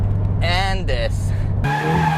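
Tires squeal in drawn-out wavering bursts as a rear-wheel-drive Subaru BRZ skids, its engine droning loudly underneath and then rising in pitch.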